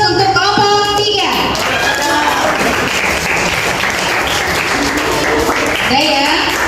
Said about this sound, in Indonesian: Sekali lagi kita kasih aplaus untuk kelompok 3.